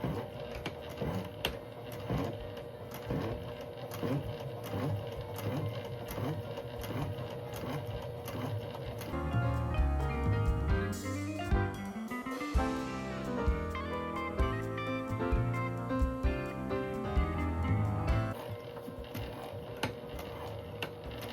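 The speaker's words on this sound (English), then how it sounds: "And again, I'm taking an extra stitch as I go over each pocket panel." A sewing machine stitches seams on a slim bifold wallet with a fast, steady mechanical chatter of the needle, a short slower stretch in the middle, then the even rhythm again.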